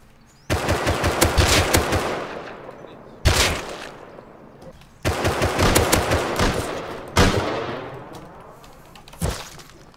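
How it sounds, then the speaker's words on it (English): Automatic gunfire in the survival game Rust, loud sustained bursts of rapid shots broken by short pauses and single sharp blasts, close and unaccompanied by talk. "There was guys shooting guns outside my base."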